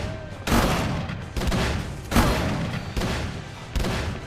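Gunfire in the video game Call of Cthulhu: Dark Corners of the Earth, with five separate loud shots at roughly even intervals and a short decaying tail after each.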